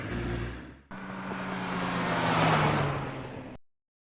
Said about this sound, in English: Oh, there they are. That's their car.